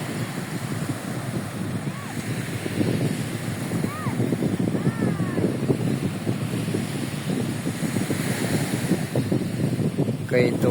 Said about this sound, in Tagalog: ito yung dagat dito sa amin